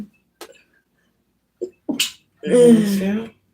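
A single sharp sneeze indoors, preceded by small scattered noises and followed by a voice talking close by.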